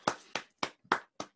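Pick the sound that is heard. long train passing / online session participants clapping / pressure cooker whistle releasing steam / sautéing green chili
online session participants clapping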